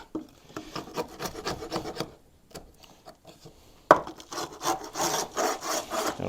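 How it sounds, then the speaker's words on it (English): Old wax scraped off a wooden beehive frame being prepared for comb honey: close, repeated rasping strokes in a steady rhythm, with one sharp knock partway through and no talking. "I'll slick this frame up a little bit, get some of this old wax off here."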